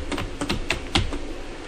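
Command being typed at a Windows 11 command prompt on a computer keyboard, a close, quick run of about eight light key clicks at an uneven pace.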